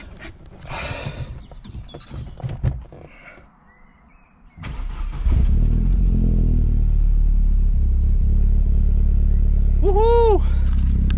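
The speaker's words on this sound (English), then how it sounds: "Right, let's see if the car will start then." Vauxhall Astra VXR engine cranking and catching after a fuel pump replacement, then settling into a loud, steady idle, with a brief higher chirp sound partway through the running engine.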